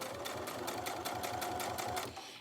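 A sewing machine stitches fabric for a project bag, running fast and steady with a rapid, even needle chatter for a couple of seconds before stopping abruptly.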